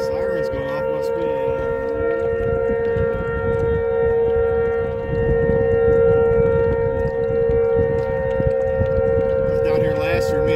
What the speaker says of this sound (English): Siren's going off, must be.